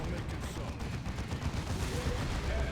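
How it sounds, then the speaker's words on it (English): Twin-linked bolters on a Baneblade super-heavy tank fire in the strategy game Dawn of War 2, a fairly quiet run of rapid, overlapping gunshots and low booms packed into a continuous battle din. "Twin-linked bolters of the Baneblade."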